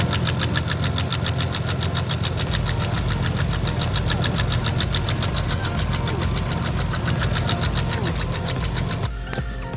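An Audi S4 engine with worn, flat-spotted cam lobes runs steadily up close, a fast metallic chatter ticking continuously over the loud mechanical drone.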